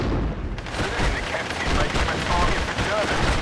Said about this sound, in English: Artillery at your orders. Boom.